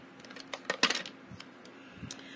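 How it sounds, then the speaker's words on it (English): Paper snips cut paper in a short run of close, crisp clicks and snips, a cluster of sharp cuts followed by a few fainter ones in a quiet room. "And I'm going to be trimming this as well."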